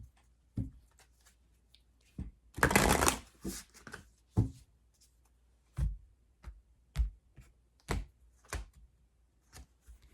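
Deck of oracle cards being shuffled by hand, one dense riffling burst followed by a string of short separate flicks and taps, close and crisp in a quiet room.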